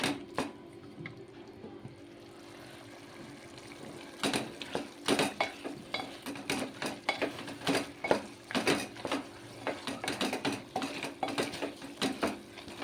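A metal spoon scrapes and clanks repeatedly against a pan while mutton is stirred with ginger garlic paste, irregular close knocks after a quiet opening.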